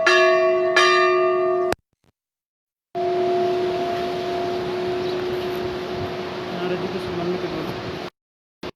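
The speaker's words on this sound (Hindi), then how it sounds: "ये भगवान भोग लग रहा है, घंटी।" A small bell at Badrinath Temple rings for an offering, repeatedly in quick strikes, then after a brief silence keeps ringing steadily with a sustained tone over background noise.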